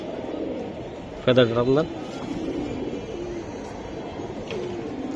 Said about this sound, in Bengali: ওকে স্যার মাশাআল্লাহ ভাই দুইটা কবুতর দেখাই দিলাম